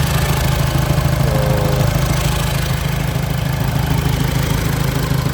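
A car engine idling during a throttle body test, a loud, steady low rumble holding constant throughout with no talk over it.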